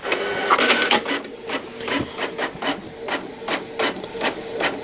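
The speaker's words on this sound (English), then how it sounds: "the printer goes to work" A printer runs off a batch of 50 flyers, its mechanism clattering in a steady rhythm of repeated feed strokes over a constant mechanical hum, loud and close.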